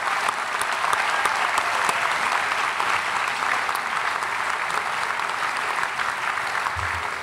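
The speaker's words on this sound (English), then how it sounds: "let's just give a round of applause for those folks" Sustained applause from a large audience at a university school of education undergraduate commencement ceremony, steady and dense clapping throughout without pause.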